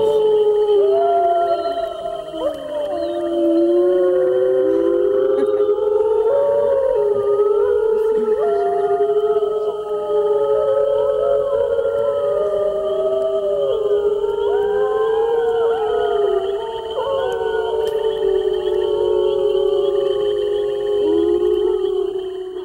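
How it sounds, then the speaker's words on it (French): A wolf pack howls in Mont-Tremblant National Park, Quebec, several long wavering voices overlapping and rising and falling together in a steady chorus, loud and continuous with no talk. "les plus beaux chants de loup"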